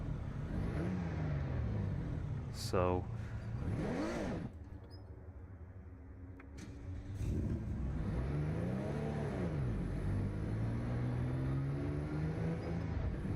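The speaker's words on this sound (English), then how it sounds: "it's still revving really high at very low throttle" A car engine in the Assetto Corsa EVO racing game revs high at very low throttle, a steady loud drone with rising and falling pitch sweeps, a brief dip midway, and a short word spoken over it.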